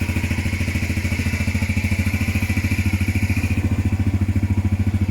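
A Honda Varadero XL 125 motorcycle engine running steadily at a fast idle, close up and loud, with an even rapid pulsing throb and mechanical clatter throughout and no voices.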